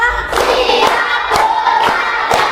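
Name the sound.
class clapping hands in a rhythmic clapping game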